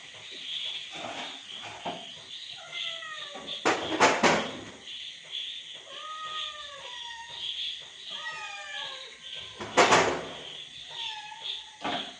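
A pet cat in a home at night meows several times in short, rising and falling cries, with a few sharp thumps or knocks in between, heard fairly close in a quiet room.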